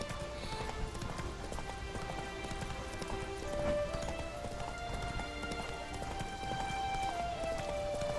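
Horse hooves gallop in a steady, continuous clip-clop rhythm in The Witcher 3, close and moderately loud, set against a sustained game music bed.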